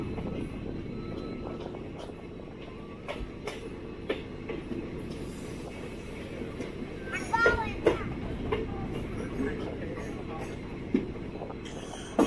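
The 06602 Madgaon Express on the Konkan Railway between Mangalore and Madgaon rumbles steadily, with repeated wheel clicks and a few louder clanks, while passengers talk indistinctly in the background.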